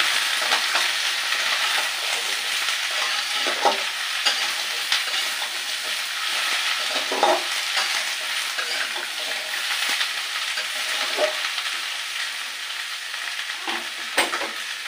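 Taro stolons (kochur loti) sautéed in a hot pan, with a steady close sizzle and spatula scrapes and knocks against the pan recurring throughout, no voices.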